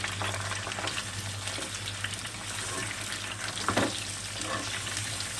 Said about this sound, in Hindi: गुलाबी होने तक आलू फ्राई करेंगे। तेज आंच पर ही करना है।